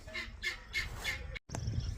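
Chickens on a homestead squawking in a coop, a flock of about eighteen including Orpingtons, giving several repeated bright calls close by, then a brief break followed by lower clucking and rustle.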